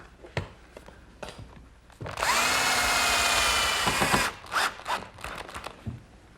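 A power drill drives screws into the glued wooden frame of an outdoor cupboard in one close, loud, steady whir lasting about two seconds. Light handling clicks and knocks come before and after it.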